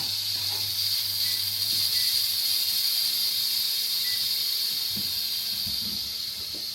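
Steam hissing steadily as built-up pressure escapes from the back of a cooker on a hob, a loud continuous bright whoosh with a faint low hum underneath and no talk.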